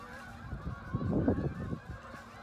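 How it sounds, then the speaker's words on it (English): Geese honk repeatedly in a loose, overlapping chorus, moderately distant, with the calls swelling in the middle and tapering off. "there's a lot of ducks and geese up here"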